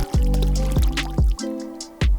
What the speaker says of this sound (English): I open up the flush hose, which I've fixed onto the 45-degree adapter